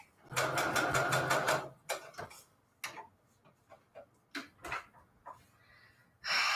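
A sewing machine runs in a fast, loud burst of rapid stitching while Christmas tags are sewn, then falls to scattered soft clicks and handling noises before a second short burst of stitching at the end.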